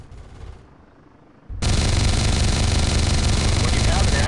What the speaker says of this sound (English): Switch over to your cannon by pressing number 1 on your keyboard and take out the first target.